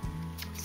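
Scissors snip through the plastic packaging of a Pokémon card product, giving one short close cut followed by a faint rustle.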